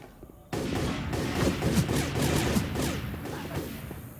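Rapid bursts of gunfire from the Left 4 Dead 2 video game, Heavy Rain level, begin abruptly and continue as a dense, moderately loud fusillade with whooshing impacts.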